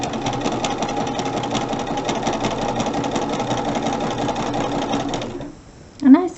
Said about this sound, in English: Alright, so I'm ready to start sewing on the 1/4 inch from the line.